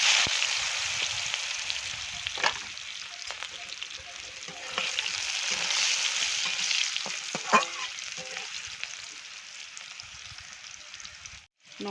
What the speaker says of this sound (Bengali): কড়াইতে তেল দিয়ে দিয়েছি, দেবো সেদ্ধ আলু